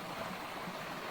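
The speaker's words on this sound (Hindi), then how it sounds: "असल में बारिश हुआ है रिसेंटली, इसलिए पानी जो है बहुत ज़्यादा तेज ये है" Fast-running stream swollen after recent rain, a constant rushing, splashing wash of water heard up close without any voices.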